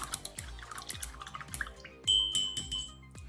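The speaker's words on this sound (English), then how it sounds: "I'm just going to wash the brush up a second in the cup." A paintbrush swished and tapped in a cup of water while restoring a vintage Hasbro wrestling figure, giving soft close dripping, clinking and sloshing sounds in a busy irregular patter.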